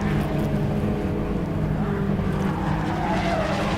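A BMW Compact Cup race car at Snetterton, heard as a steady loud engine roar with tyre noise during a slide, a continuous dense drone of racing machinery at close range.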